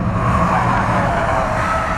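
Tyres of a Lotus Eletre electric SUV scrubbing and squealing as it corners at the limit on a race track, a continuous loud drone of road and tyre noise with no engine note, no voices.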